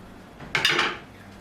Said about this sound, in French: On prend le couteau, on les coupe en 4 morceaux.